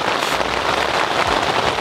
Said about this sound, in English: this rain's just getting heavier.